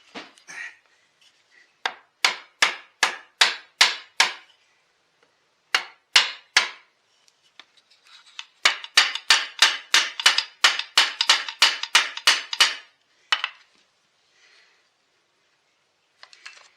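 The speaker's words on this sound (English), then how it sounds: "A tap out with the rubber hammer" Rubber hammer tapping a Husqvarna 380 chainsaw crankcase during a rebuild, sharp clear knocks in rhythmic bursts: one run of about six, a short trio, then a rapid string of a dozen or more, with short pauses between groups.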